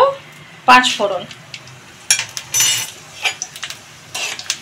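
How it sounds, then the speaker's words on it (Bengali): Panch phoron spices with a dried chilli and bay leaf crackle and sizzle in hot mustard oil in sharp, irregular bursts, with occasional clinks of a utensil against the pan. "পাঁচফোড়নটা মোটামুটি ভালো করে ভাজা হওয়ার অপেক্ষাতে থাকবো।"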